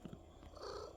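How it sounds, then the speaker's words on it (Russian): A cat purrs close by in a quiet indoor setting, a soft steady rumble that swells slightly toward the end of the short stretch. "Мурлычет."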